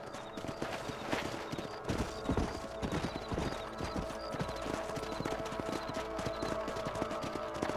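Rapid, continuous clip-clop of horse hooves galloping in Red Dead Redemption with a dense, busy rhythm, alongside a brief whinny and game background sound.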